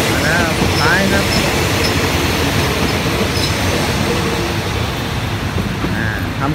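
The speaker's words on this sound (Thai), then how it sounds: "ทำขบวนเข้าสถานีรถไฟบางเขนเป็นที่เรียบร้อย" A train pulls into Bang Khen railway station in Thailand with a steady, loud rolling rumble of cars and wheels, brief faint squeals of metal, and a voice talking over it.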